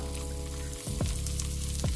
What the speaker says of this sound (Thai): กุ้ยช่ายเผือกของเราค่ะ ทอดให้กรอบเลยค่ะ